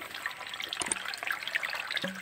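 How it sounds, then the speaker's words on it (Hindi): Water trickling and splashing into a bamboo container outdoors in a jungle, a close, continuous bubbling dribble with a few small knocks and no speech. "मैंने पानी दे लिया, इसके अंदर जाने दो थोड़ा थोड़ा करके"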